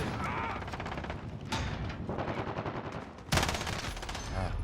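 Rapid automatic gunfire in Call of Duty: Modern Warfare, a dense, loud, continuous stream of shots with short bursts and a sharper blast near the end, with brief voice callouts in the mix.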